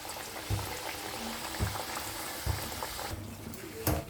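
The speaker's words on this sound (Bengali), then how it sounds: "আমি এরকমভাবে সবগুলো ভেজে নিয়ে আপনাদের দেখাচ্ছি।" Papdi sizzling and bubbling in hot oil in a home kitchen, a steady dense frying crackle with soft low thumps recurring about once a second.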